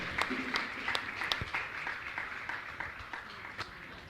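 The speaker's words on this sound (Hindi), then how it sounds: "इनके सम्मान में जोरदार ताली बजाकर इनका सम्मान करें" A gathering in a religious assembly hall claps in honour of a family, producing a moderate, uneven patter of applause with scattered individual hand claps that gradually thins out.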